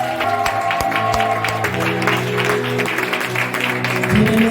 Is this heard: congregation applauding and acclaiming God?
yes